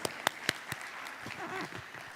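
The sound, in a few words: audience applause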